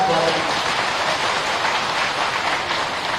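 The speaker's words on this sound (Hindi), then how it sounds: "जोर से ताली बजाए स्वागत।" A dense, steady wash of crowd clapping at a BJP rally in Hatpipliya, Dewas, loud and continuous without a break.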